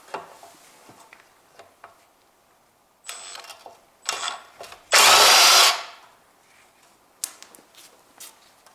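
A power tool whirs in a short loud burst while removing a 10mm sensor bolt on a Toyota 2ZZ-GE engine, amid scattered clicks and clatter of tools nearby.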